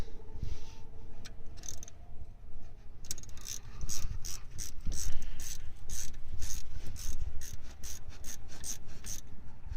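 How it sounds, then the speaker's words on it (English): Close, sharp ratcheting clicks come in rapid bursts as a ratchet wrench turns 14 mm bolts during a limited-slip differential swap on a Mazda Miata, over a low rumbling background with no talk. "Well, the ratchet, they're 14 millimeters, by the way."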